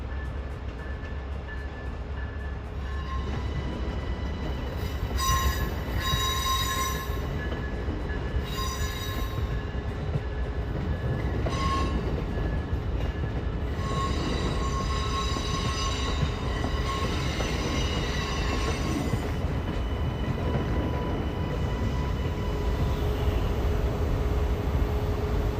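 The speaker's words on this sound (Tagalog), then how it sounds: "isa sa mga susunod na henerasyon ng ACELA ng Amtrak ang nagsisimula ng biyahe nito pahilagang silangan" Amtrak's next-generation Acela train starting its northeast run toward New York City, a steady loud rumble of rolling wheels with rising and falling metallic squeals and whines as it pulls away from the station.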